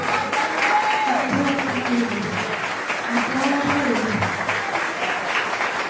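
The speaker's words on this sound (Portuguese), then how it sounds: "Salva de palmas por isso." A church congregation claps steadily through the whole stretch, full and fairly loud, while a voice sings or exclaims over the applause.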